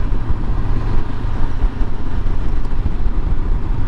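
A Honda CB500X motorcycle on the move along country lanes, its steady engine drone and road and wind rumble loud and continuous throughout.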